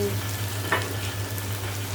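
Teasel gourd (kakrol) frying in a pan in a home kitchen, a steady close sizzle with a low hum beneath and one brief stirring scrape, no talk.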